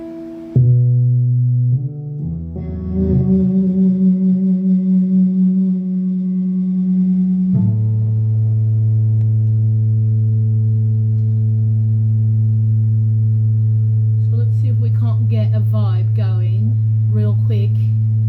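An electric guitar drives a test piano sound through the MIDI Guitar 2 plugin, giving a run of quick piano notes that settle into long sustained tones, with faint higher flutters near the end.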